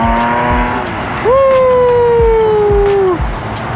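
A car engine at a nighttime car meet revs up and holds a loud, close rising note for a couple of seconds before dropping off, with other engine noise around it.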